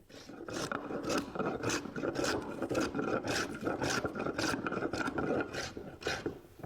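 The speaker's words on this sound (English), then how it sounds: "I brush the face with the small brush and then put it together." A small brush scrubs rapidly across the face of a wooden barrel piece in a cooper's workshop, giving a steady run of close, dry rasping strokes with no talk.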